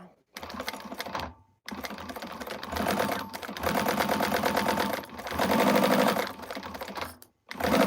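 A sewing machine stitches quilting fabric in several rapid whirring bursts separated by short pauses, close and prominent.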